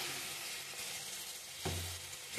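Sliced onions with a light dusting of turmeric sizzle steadily in a pan of heated oil for a mutton curry, a continuous close frying hiss with a brief stir and a louder burst of sizzle near the end.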